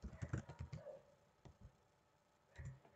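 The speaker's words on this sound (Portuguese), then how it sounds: "Eu vou digitar valores." Values are typed into an Excel spreadsheet on a computer keyboard: a faint quick run of key clicks, a brief pause, a single tap, then one more short cluster of keystrokes.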